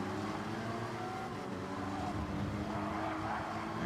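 A Porsche race car brakes in the video game Gran Turismo 7 at Autodromo de Interlagos during a Manufacturers Cup race. A loud, steady engine roar fills the clip, with faint tire noise underneath and no talking.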